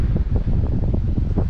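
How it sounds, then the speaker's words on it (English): Strong gusts buffet the microphone on a coastal boardwalk along New Brunswick's Acadian coast at Bouctouche, a loud continuous low roar with no speech. "oh yeah, she's pretty windy today."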